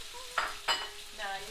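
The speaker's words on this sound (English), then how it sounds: "Now you keep frying this till the onions get nice and brown." Onions and chilies fry softly in a pan with two quick stirring scrapes, quiet and close, without any talking.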